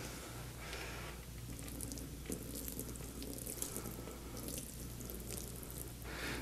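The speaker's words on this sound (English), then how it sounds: "I'm going to put the water on the mat." Water is poured from a pitcher onto a WaterHog floor mat, making a steady, continuous splashing and trickling wash that runs for several seconds with a low background hum and no talking.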